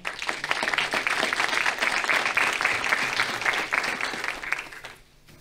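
A large audience claps steadily for about five seconds, a dense sustained applause that tapers off quickly at the end.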